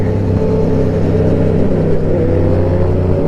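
A car engine rumbling steadily nearby, a continuous loud drone with no talk.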